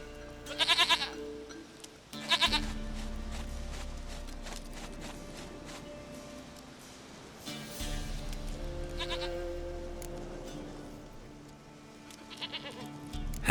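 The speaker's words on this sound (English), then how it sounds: "Goat of mine, dearest," Goat bleats in The Witcher 3, several loud bleats near the start and around two seconds, with fainter ones later, set over game ambience with hoofbeat-like clip-clop and low background music.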